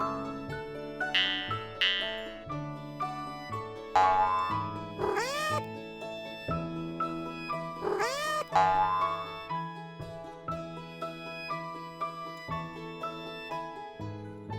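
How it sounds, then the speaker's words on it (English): A cat meows repeatedly in a children's alphabet song, several drawn-out, rising and falling meows set over a bright, bouncy musical backing with a steady beat, prominent and close, and no voices. "C is for cat."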